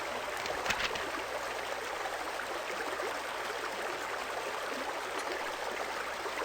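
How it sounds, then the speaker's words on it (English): Running water in the puzzle video game Submachine: a steady, fairly quiet stream-like rush that carries on unbroken over a faint low electronic hum, with nobody talking. "Let's say running water."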